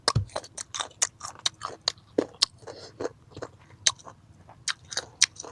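Ripe mango eaten with chili and sugar: a steady series of crisp, close bites and wet chewing crunches, repeated rhythmically throughout with no talking.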